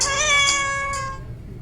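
A house cat gives a single long, close meow that starts strong and then fades out, with a quiet room behind it.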